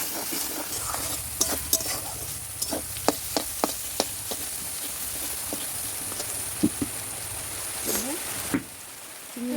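Banana flower being stir-fried with turmeric and a splash of water, a soft continuous sizzle broken by repeated sharp clicks and scrapes of a spatula against the pan, close and fairly quiet.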